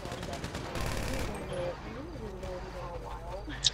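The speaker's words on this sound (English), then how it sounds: "They ain't supposed to be shooting at us no more." Gunfire in Grand Theft Auto V, bursts of rapid shots at moderate distance ringing out under people talking, with a denser volley in the middle and a sharp pop near the end.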